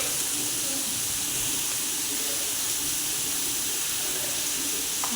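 Onions sautéing with salt in a pan for a prawn roast: a steady, close, continuous sizzling hiss with no pauses throughout.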